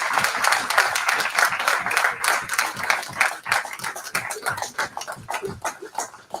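Audience applause for helpers on stage at a startup bootcamp pitch event, energetic clapping from a crowd with distinct sharp claps and rising and falling intensity over several seconds, loud and close, with some whoops mixed in.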